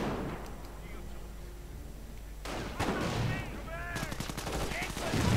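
Artillery shells strike grenadiers in a WWII strategy video game: a muffled, low rumble gives way to a rapid cluster of sharp impacts and crackling blasts, moderately loud.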